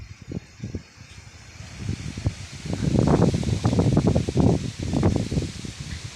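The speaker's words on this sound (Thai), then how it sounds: "ลมมาเลยทุกคนเอ้ยพัดเป็นพัดเลย" Wind gusts outdoors in a natural setting where songbirds are trapped, rising from a soft rustle to a strong, steady blustering roar through the middle and then easing slightly.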